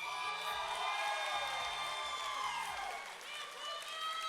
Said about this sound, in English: This is the crowd favorite, so you guys have to really make some noise on this one